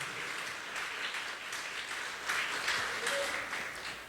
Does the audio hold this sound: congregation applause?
yes